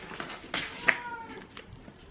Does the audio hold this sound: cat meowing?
yes